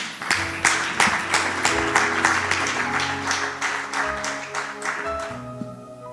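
A church congregation at a Parole du Salut service in Dourdan claps steadily and rhythmically for several seconds, the clapping loud and close over a sustained tonal background.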